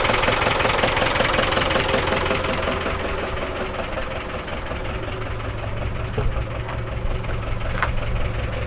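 A Ford Transit MK4 van engine idling nearby, a steady mechanical knock and rumble with a constant chugging rhythm, slightly louder at first, then settling to an even idle.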